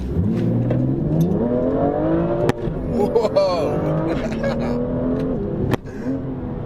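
A BMW M2 engine revs hard in manual mode during drift practice, its tone climbing and falling through gear changes with a sharp tire squeal. The car sounds loud and close, with some talk inside the cabin.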